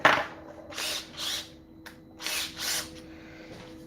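Power drill used while modding a PC chassis: several short whirring bursts of about half a second each, separated by brief pauses, close and moderately loud over a low background hum.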